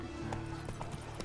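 Roach, a horse in The Witcher 3, galloping with a quick, rhythmic clip-clop of hooves at moderate distance, with faint speech over the hoofbeats.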